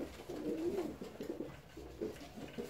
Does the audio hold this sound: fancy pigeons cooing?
yes